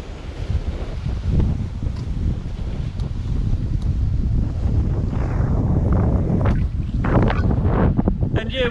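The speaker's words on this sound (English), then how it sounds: "at the moment 13, 14, 15 knots of wind, that's apparent wind," Steady wind gusting around 13 to 15 knots over the sea aboard a sailing boat with sails up off Indonesia, a continuous broadband rush and buffeting against the microphone, loud and constant throughout.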